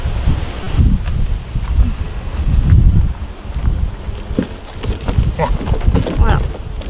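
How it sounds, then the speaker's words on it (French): Strong wind gusts buffet the microphone outdoors beside a greenhouse, a steady low roar with surges and fades and some rustling. "Il y a que le vent qui est là. Oui, il fait beaucoup de vent."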